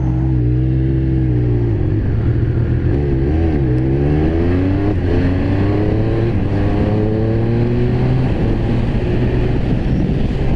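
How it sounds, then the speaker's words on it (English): A Triumph Speed Triple 1200RR motorcycle accelerates on the road, its engine note climbing loudly through the revs with brief dips at quick gear shifts, continuous and close over steady wind rush. "Now the bike sounds pretty good."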